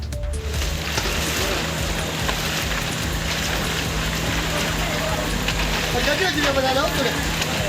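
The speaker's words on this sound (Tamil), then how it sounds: "பெஞ்சல் புயல் எதிரொலியால் கடலூர் மாவட்டத்தில் கடந்த 2 நாட்களாக கனமழை பெய்து வருகிறது" Heavy rain during Cyclone Fengal in Cuddalore district, a dense continuous wash of rainfall with a low rumbling background, steady and loud throughout.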